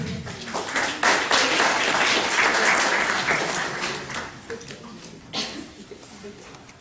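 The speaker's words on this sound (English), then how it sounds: "Round of applause to Peter." An audience applauds a speaker at a university Islamic awareness panel in Sydney, steady dense clapping swelling then tapering, with some voices in the crowd underneath.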